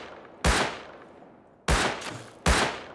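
Three loud, sharp gunshots in Rust on an official server, spaced irregularly with short decaying echoes between them, no talk over them.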